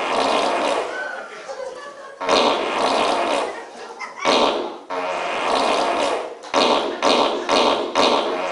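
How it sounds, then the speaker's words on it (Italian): Fart noises in an Italian cabaret comedy act on stage, several loud bursts of varying length separated by short pauses, with talk and audience sounds around them. "Sono terrorizzati dalla scoreggia del fagiolo qua."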